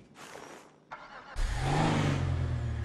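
A car engine in GTA Online cranks and catches after a couple of short mechanical clicks, then settles into a loud, steady low idle that fills the rest of the moment.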